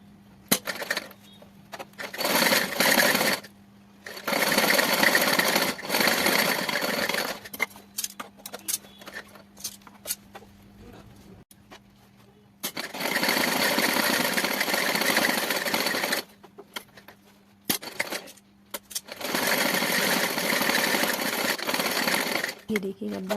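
Sewing machine stitching a small cotton-filled quilt for a Laddu Gopal winter bed set, running in several long loud bursts with short pauses between them, close up and with no talking.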